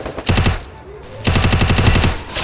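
Gunfire in a shooting video game comes in two loud automatic bursts of rapid, closely spaced shots, separated by a short lull of quieter game ambience.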